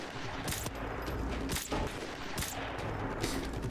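Rapid gunfire from Call of Duty: Modern Warfare Remastered, with dense overlapping bursts of shots and booming impacts filling the whole stretch at a loud, steady intensity, and no voices.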